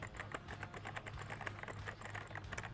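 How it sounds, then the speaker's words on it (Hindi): Rapid, fairly quiet typing on a mechanical gaming keyboard, a dense stream of crisp key clicks with no pause, heard up close and alone. "सबसे मेन चीज़ मैकेनिकल कीबोर्ड की ये जो आवाज़ होती है ना, ये OG आवाज़ है कीबोर्ड की"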